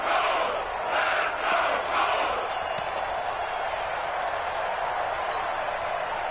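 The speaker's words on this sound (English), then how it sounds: "The crowd getting into it as we come up on a big 3rd down." A big football stadium crowd roars continuously ahead of a crucial third down, a dense sustained wall of cheering and yelling with faint rhythmic stomps, heard from a distance.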